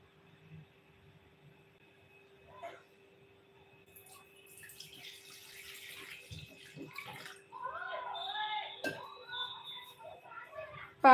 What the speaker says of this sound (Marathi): आता दुसऱ्या भांड्यामध्ये पाणी घ्यायचं आहे.